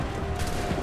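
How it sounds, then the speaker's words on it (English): Soldiers fire a dense musket volley in Assassin's Creed III, a loud, crackling burst of overlapping shots filling the whole short moment. "Wait for my signal! Fire now!"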